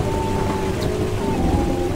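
Steady rain hiss in the racing game Assetto Corsa Evo with an electric Alpine R5 on track, a dense even wash of noise with a faint engine drone beneath, continuous and fairly loud.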